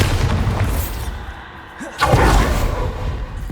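A Bombarda blasting spell detonating in Hogwarts Legacy, a loud booming explosion that surges partway through over a rumbling game soundscape.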